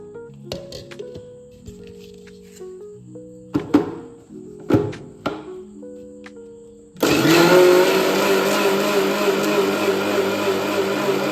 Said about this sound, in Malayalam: ഇനി നമുക്കിത് അരച്ചെടുക്കാം.